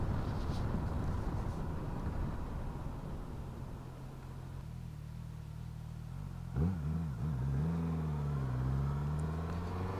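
A Suzuki GSX 1000 GX motorcycle engine hums steadily, then revs up and pulls harder partway through, its rising drone loud and close with no voices.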